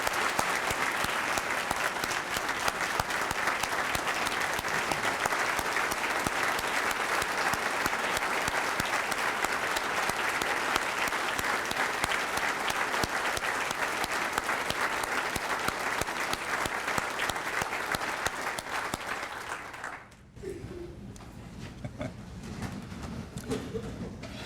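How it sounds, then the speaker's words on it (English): A large audience at Arlington ISD's State of the District 2017 gives a sustained, loud round of applause lasting about twenty seconds, then it breaks off abruptly into a quieter room. "can we have a round of applause,"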